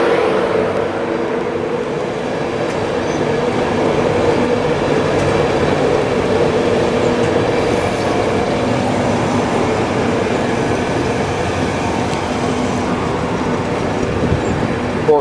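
A Virgin Trains East Coast Class 91 electric train pulls into a station, its steady loud rumble and rolling wheel noise sustained and close throughout, with a broad roar and no voices.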